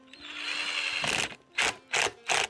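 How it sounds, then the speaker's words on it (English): Power drill driving wood screws into wood, a sustained whirring drive for about a second, then three short loud bursts of the motor in quick succession, close and alone. "I've got some wood screws here. Just going to drive them in through the sides."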